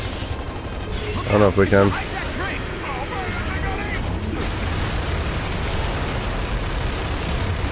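Gunfire and explosions from the video game Gears of War 2 rattle in a dense, continuous stream of mechanical clatter and blasts, with a person talking briefly over the action.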